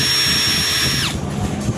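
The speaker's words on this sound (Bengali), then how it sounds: "সুন্দর একটা ড্রিল মেশিন পাবেন, 21 ভোল্টের, ব্রাশলেস, কার্বন ছাড়া ড্রিল মেশিন পাবেন" A 21-volt brushless cordless drill whirs at a high, steady whine, then winds down over about a second and falls quiet. It is close and loud, with no voices.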